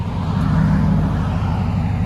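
A Nissan/Infiniti V6 or V8 engine with black exhaust tips, its steady deep exhaust drone loud and close, held without a clear rise in pitch and with no talking over it.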